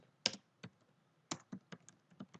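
Close, crisp computer keyboard clicks tapped in an uneven rhythm, about a dozen keystrokes in quick bursts with quiet gaps between.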